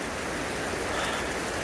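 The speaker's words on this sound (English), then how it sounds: "Keep most of the rain off me for now." Steady rain falls on a forest trail beneath trees, a dense even hiss close around with no talking.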